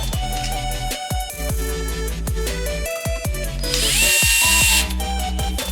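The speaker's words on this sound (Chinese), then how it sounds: "再在另一侧孔里拧入 M2×10螺栓" A power driver runs M2×10 bolts into a small wheeled robot during assembly, whirring in several close bursts with brief pauses and rising pitch as each bolt seats, a sharper high whine near the end.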